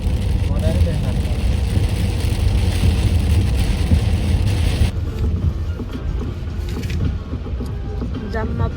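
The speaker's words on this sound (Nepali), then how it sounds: "पानी पर्न थाल्यो, मजाले देख्न थाल्यो।" Rain falls during a camping trip in Snowdonia, Wales, a dense, steady hiss of drops pattering nearby, continuous and fairly loud, with a vehicle-like rumble underneath that eases midway.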